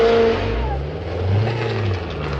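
Chevrolet Corvette engine revving at a cruise, a low rumbling roar that swells and eases, close and fairly loud, with voices faintly mixed in.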